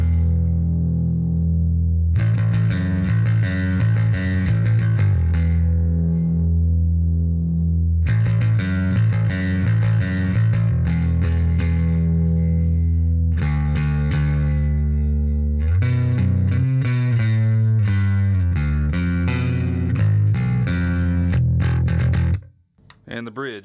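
A bass guitar played through a 1984 Peavey Max bass preamp on the neck pickup with the tone control fully up, giving loud, sustained effected lines in several long phrases with short pauses between them.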